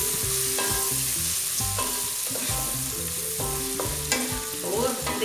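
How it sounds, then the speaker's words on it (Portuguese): Bacon and calabresa sausage fry for farofa while a spoon stirs them in the pan, with repeated scraping strokes over a continuous close sizzle, fairly loud and rhythmic, no talking. "Agora eu vou dar uma misturada nos dois, aqui no bacon e na calabresa."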